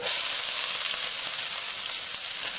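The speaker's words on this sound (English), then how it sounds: "Once you bring your wok up to temperature again, you're going to add your onions" Onions sizzle and fry in hot oil in a wok for Mexican fried rice, a steady close hiss with no talking.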